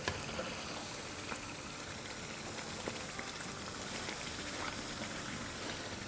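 Boneless chicken karahi fries in oil with a steady, dense crackling sizzle, close and even throughout, with no talk.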